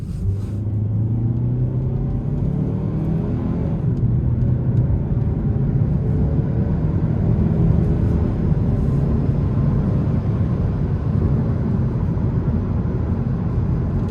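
The engine of a 2026 Hyundai Sonata SEL Sport accelerates on an interstate, heard from inside the cabin. The rumble is loud and steady, with a tone that climbs gradually and road noise underneath. No one speaks.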